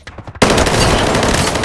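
Loud, continuous burst of automatic gunfire in the mobile shooter Delta Force Mobile, opening abruptly after a brief quieter moment and sustaining rapid, dense shots to the end.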